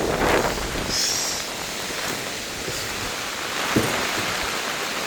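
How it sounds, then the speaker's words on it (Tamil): Strong cyclone wind in Sri Lanka roars as a continuous, loud broadband rush, buffeting a nearby microphone with gusty surges and no voices. "காற்றை பாருங்க குடையை பிடிக்க இல்லாத அளவுக்கு காற்றா இருக்கு"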